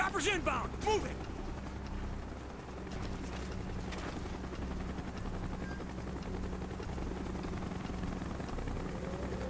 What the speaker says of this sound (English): Chopper's inbound. Move it.